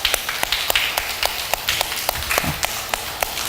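A crowd of listeners claps hands together in a lecture hall, a steady run of sharp, fairly close claps with an even rhythm over a light murmur of room noise.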